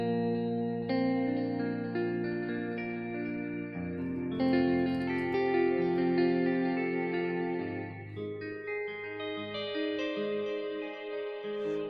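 Heavyocity Damage guitar plug-in playing sustained distorted chords through delay and reverb, a loud continuous wash of layered tones that shifts chords every few seconds with trailing echoes.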